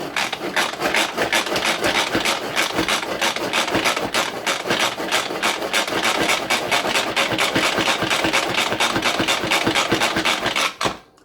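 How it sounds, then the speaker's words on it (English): A Pampered Chef manual food processor pumped rapidly to chop lemonade salsa, giving a steady, fast series of close, loud rasping, ratcheting strokes that continue evenly before stopping abruptly at the end. "Lid on, release the brake, and give it a pump."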